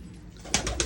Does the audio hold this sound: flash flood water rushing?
no